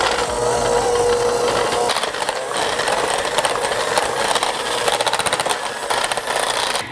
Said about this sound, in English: I'll use my hand mixer to cream the cheese and the sugar together until I have a creamy mixture